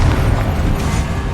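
The Confringo explosive spell detonates in Hogwarts Legacy, a short, heavy booming blast with rumbling low end that stays loud throughout the brief moment.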